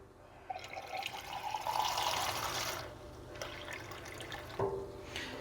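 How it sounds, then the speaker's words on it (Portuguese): Tap water pours into a glass laboratory beaker for heating, a steady trickling splash that swells and fades over several seconds, with a brief clink near the end. "coleto aqui um pouquinho de água da torneira"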